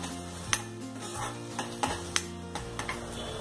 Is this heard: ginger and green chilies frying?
yes